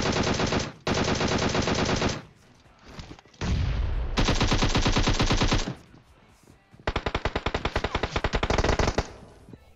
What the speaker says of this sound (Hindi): इस बार बैग में भर भर के गोलियां तो दिल खोल के बर्बाद करेंगे गोलियों को